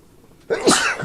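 A single sharp sneeze bursts out of near silence, loud and close, with a brief breathy tail.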